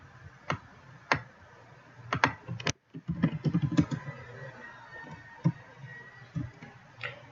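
Typing on a computer keyboard: scattered close key clicks and a quick burst of rapid taps, with a few pauses between strokes.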